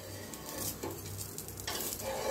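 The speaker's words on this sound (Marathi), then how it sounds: "छान दोन्ही साईडने भाजून घेऊया आपण" A dosa roasting on an oiled pan gives a quiet, steady sizzle with a brief scrape of the spatula partway through.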